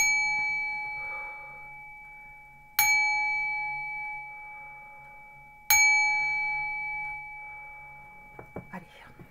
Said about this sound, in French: 3 coups de gong et on y va.